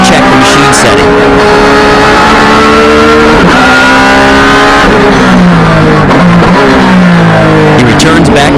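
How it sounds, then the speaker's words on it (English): A race car driven by Tsuchiya on used tires during a time-attack lap roars loudly nearby, its engine revving up and down through gear changes, with a voice speaking over it. "He goes out for a lap on used tires to check the machine setting."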